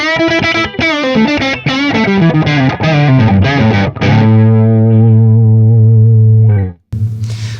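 Electric guitar through a Mesa/Boogie Mark V amp on channel 2 in Mark I mode with the thick switch on, loud distorted chords and riffs ending on a long sustained chord that cuts off, then a brief resumed chord.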